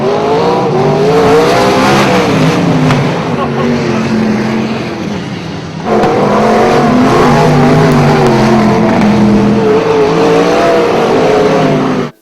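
Big sprint cars race around a dirt track, their engines a loud, continuous roaring drone that dips briefly midway, then swells back as the pack passes close by.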